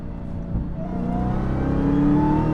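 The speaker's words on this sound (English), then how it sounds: "You hear that supercharger really coming in." A 2021 Dodge Charger SRT Hellcat Redeye Widebody accelerates hard, its supercharger whine rising in pitch over a deep engine roar, loud and close, with no one talking.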